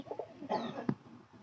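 Pigeons in a pigeon house give a few short, soft coos and clucking calls, close by and fairly quiet, with a brief sharp flutter or knock partway through.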